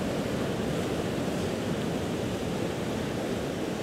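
Steady wash of ocean surf lapping close by on a palm-lined beach at sunset, a dense unbroken hiss of water rolling in and out, heard on its own without any talking.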